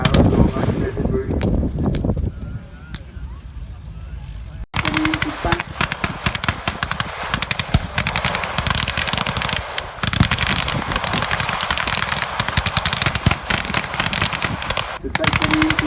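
Machine guns rattle during a desert battle reenactment skirmish with Italian and German forces, in loud, sustained rapid bursts that run nearly nonstop after a brief lull and break around 4.7 seconds, with scattered single shots.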